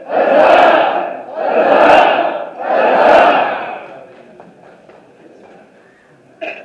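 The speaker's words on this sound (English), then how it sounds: "For they are our future. Please cheer." Three loud crowd roars of hurrah at a medieval-style court gathering, evenly spaced and each swelling then fading, followed by quieter room murmur and a brief knock.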